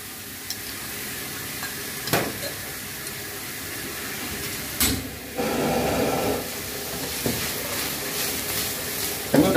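Bitter melon stir-fried in a pan with green onion, seasoning powder and fish sauce, giving a steady sizzle and hiss with a few sharper stirring scrapes and bursts, close and fairly loud.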